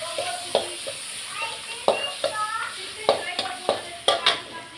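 Bay leaf, cinnamon and cardamom sizzle in hot oil in a pan for paneer butter masala, a steady close hiss broken by repeated stirring scrapes and soft clinks, with no talking.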